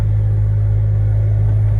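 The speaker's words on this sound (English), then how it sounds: "This right here just demonstrates that your car drives normal without the key fob." An Audi car drives along without its key fob inside, giving a steady, loud, low rumbling hum with an even, unchanging drone throughout.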